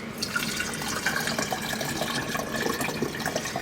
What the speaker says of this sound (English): Just put a little water down in there